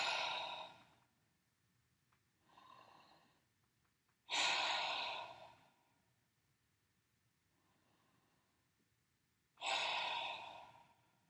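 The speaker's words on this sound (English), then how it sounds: "take 3 deep breaths" Three slow, deep breaths, each a loud, airy exhale after a quieter inhale, spaced a few seconds apart in an otherwise quiet room.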